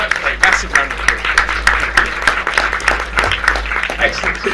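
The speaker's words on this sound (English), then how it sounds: "Massive round of applause." An audience at a film festival keynote session gives a round of applause, with steady clapping running throughout while someone speaks over it.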